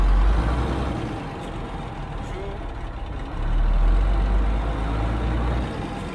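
Shacman truck engine idling and rumbling while gears are selected, a loud continuous low drone that swells midway, with faint clunks and someone talking over it.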